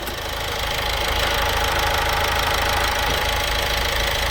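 An Opel Insignia B 1.6 diesel turbo engine runs close by with a loud, dense, continuous roar that swells slightly as it revs.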